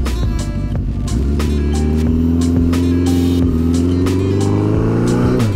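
A hardtail bobber chopper motorcycle engine rumbles loud and close, with throttle blips rising and falling over a steady low idle as the bike rolls off.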